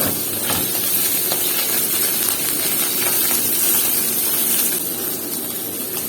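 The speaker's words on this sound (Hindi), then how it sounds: "उसके बाद थोड़ा सा इसको हम फ्राई करेंगे।" Chicken pieces fry in a pan for a quick pizza topping, giving a steady, loud sizzling hiss with faint crackles throughout.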